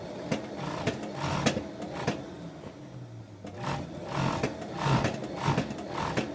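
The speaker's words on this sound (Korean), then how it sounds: "이제 터졌던 안쪽 솔기를 다시 박습니다. 이렇게 오바락 처리를 하는 겁니다." Overlock machine stitching the inner seam of women's trousers, a steady close mechanical whirr with repeated sewing bursts and brief pauses, alone without talk.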